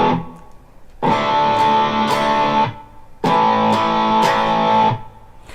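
An electric guitar with distortion plays a down, up, down, mute strumming pattern. It comes as two loud strummed bursts about two seconds long, each cut off by a choked mute, with a short pause between them and no talking.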